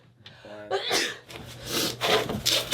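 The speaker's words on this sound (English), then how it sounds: "I can't stop sneezing." A short voiced sound gives way to a loud, breathy burst close to the mic, followed by scraping and rubbing noises.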